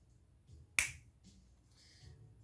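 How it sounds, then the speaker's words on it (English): A single sharp finger snap cracks out crisply near the mic, standing alone against a quiet background with faint low hum. "if for some reason things happen when I snap my fingers"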